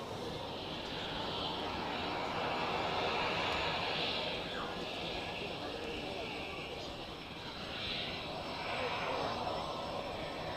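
A Condor airliner in retro livery passes at an airport, its jet engines giving a continuous, moderately distant roar with broad hissing swells, while a voice talks over it.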